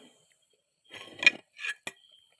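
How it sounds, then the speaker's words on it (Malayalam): The lid of a cooking pot being lifted off, a short run of metallic scraping and clinking ending in one sharp clink, close and fairly quiet. "അപ്പോൾ ചട്ടി നമുക്ക് തുറന്ന് നോക്കാം."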